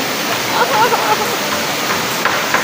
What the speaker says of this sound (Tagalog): Kasi ang lakas ng waterfall.